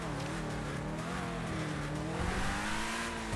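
In GTA V Online, a Benefactor LM87 race car engine revs hard and continuously, its pitch climbing and wavering with gear changes, loud and close, with no one talking.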